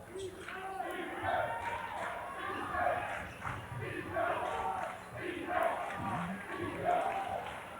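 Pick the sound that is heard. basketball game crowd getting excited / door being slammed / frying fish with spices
basketball game crowd getting excited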